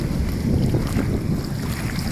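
Strong wind buffeting the microphone at a beach in Hua Hin, a loud, constant rushing roar mixed with the wash of surf, steady and close throughout with no voices.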